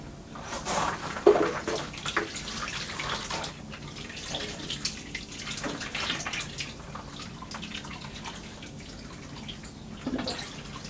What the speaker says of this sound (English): So the last thing to do is give it a good watering in.